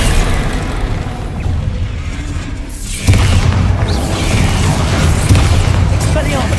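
Bombarda explosion spell going off in a Harry Potter video game: a deep, loud boom bursts in at about the midpoint and rumbles on through the rest, following a steady wash of game noise with voices around it.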